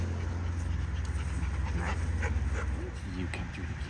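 Dog panting rhythmically and close, with a couple of brief whimpers, on an autumn nature walk while people talk nearby.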